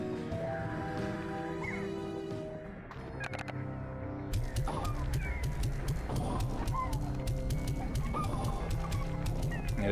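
Chickens cluck busily in Slime Rancher 2, a dense run of short, close clucks and squawks that picks up and grows louder partway through, with game ambience underneath and no talking.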